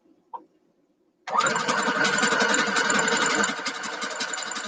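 A sewing machine stitches fabric pieces together for nine-patch quilt blocks, starting after a brief click and then running as a steady, close, continuous motor whir.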